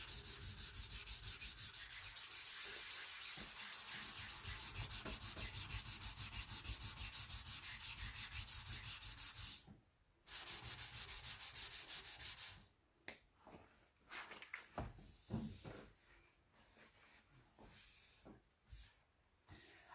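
A rag rubs Dixie mud filler into hardware holes on a piece of furniture: close, continuous scraping strokes, a short pause, then shorter intermittent rubs with quiet gaps, no voices.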